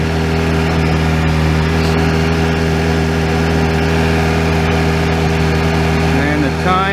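A car engine idles steadily while warming up before an oil change, a close, even low hum with no revving throughout.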